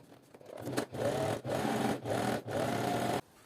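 A sewing machine topstitches a fabric seam on a zippered cosmetic pouch, running in four quick bursts of steady whirring with brief pauses between them, close and clear.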